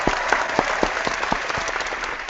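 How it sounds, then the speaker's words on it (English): Audience applause at a live Halloween special show, close and lively, with several sharp individual claps standing out above a steady crowd of clapping. "let's give each other a round of applause for tonight"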